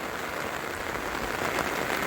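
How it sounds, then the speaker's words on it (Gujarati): Steady rain drenches a campsite and its tents in Gujarat, a dense unbroken wash of patter heard close and loud, no talking. "વરસાદ આવ્યો શરૂ થઈ જાય ને તમે વાત પૂછોમાં કેમ્પ ને બેમ્પ ને બધું પલાળ્યું"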